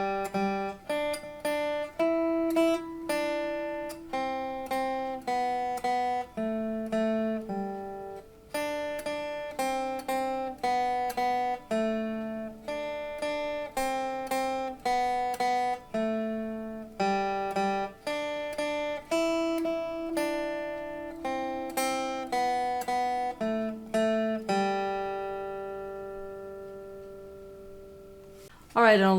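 Steady single-note guitar picking of a beginner lesson piece, even plucked notes in a regular rhythm for about half a minute, close and unaccompanied, with a final held note fading at the end.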